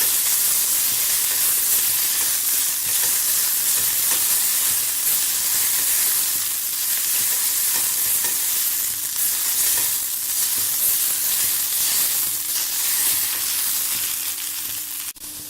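Onion sautés in a pan for chicken biryani, giving off a loud, constant sizzle and hiss that fades only slightly near the end.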